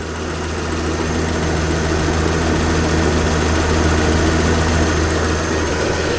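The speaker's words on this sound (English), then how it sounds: "There's a big fan whirring around there" V8 engine idling steadily with a big cooling fan whirring, during coolant system burping; a loud, constant close-up drone with no talk.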